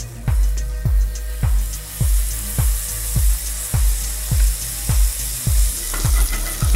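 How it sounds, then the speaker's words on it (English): Large burger patties sizzle and fry in a hot skillet, a steady close crackle punctuated by regular sharp clinks or taps roughly every half second throughout. "And then we go straight into a hot skillet."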